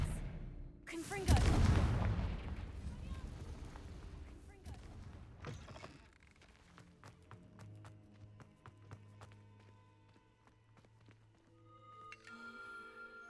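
Confringo spell blasts in Hogwarts Legacy: one loud explosive burst early on that booms and decays, a smaller hit after it, then quiet game ambience with faint tones.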